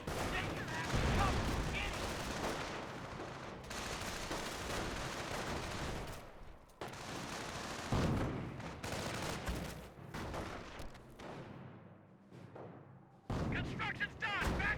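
Gunfire from a sniper and machine gun in the Company of Heroes video game, bursts of rapid rattling shots and heavier booming reports in dense clusters, with a commentator talking over the battle.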